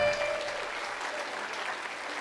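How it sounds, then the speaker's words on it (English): A crowd applauds performers at a GAA club centenary concert, with steady clapping at moderate distance and a faint voice near the start. "Give them another round of applause there."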